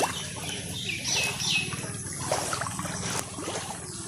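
Flood water running over a submerged village road, a steady close trickling and gurgling wash with faint bird calls in the background.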